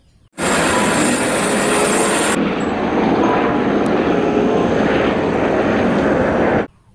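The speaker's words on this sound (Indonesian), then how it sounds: "Ini adalah helikopter." A helicopter's rotor and engine roar starts abruptly, holds loud and steady for about six seconds, then cuts off sharply.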